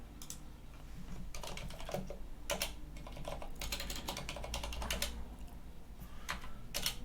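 Fingers type a password on a computer keyboard in quiet, irregular bursts of keystrokes with short pauses between them.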